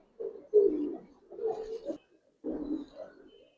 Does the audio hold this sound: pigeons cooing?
yes